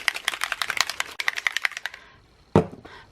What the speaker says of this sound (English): the picket fence has got lots of pigment in there. So you can hear a little ball in there.